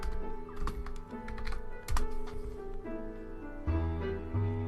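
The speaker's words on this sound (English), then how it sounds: "So let me type in this." Someone types on a computer keyboard in a short, uneven burst of key clicks, close and clear, with no talking.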